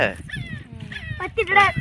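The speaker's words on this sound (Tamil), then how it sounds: "நாய்க்குட்டி ஒன்று கத்திட்டு கிடக்குங்க" A tiny puppy, its eyes not yet open, cries on a beach with high, wavering whimpers and short yelps, close by, while people talk nearby.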